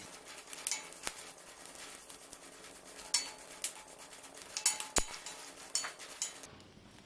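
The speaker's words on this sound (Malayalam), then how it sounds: "ഇതെല്ലാം അങ്ങനെ കൈ വിടാണ്ട് ഇളക്കിക്കൊണ്ടിരിക്കണം കേട്ടോ." Coriander seeds roast in a pan while being stirred continuously for Kerala-style sambar powder, giving a dry rattling patter with scattered clinks and scrapes of the utensil against the pan, close and fairly quiet.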